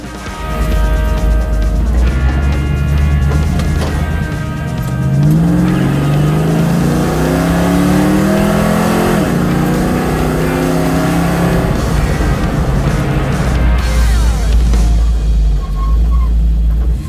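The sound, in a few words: Dodge Challenger engine revving at wide open throttle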